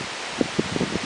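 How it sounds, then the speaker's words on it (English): Wind blusters outdoors in a garden, a steady broad rushing noise buffeting the microphone with a few soft rustling thumps. "Whoa, it's windy."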